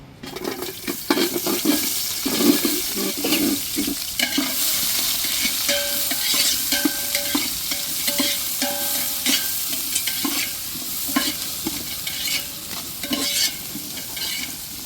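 Onions frying in a pot with whole spices for biryani, loud sizzling and crackle interrupted by repeated scraping stirs of a spoon against the pot, close and steady with no voices.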